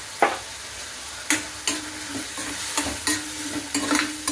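Spices, chilli masala, turmeric and salt stirred in hot oil in a pan, a loud close frying sizzle with repeated sharp spatula scrapes in an uneven rhythm, no talking.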